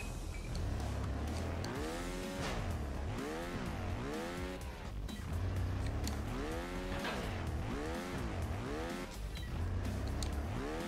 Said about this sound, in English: Best bike, Pit Viper.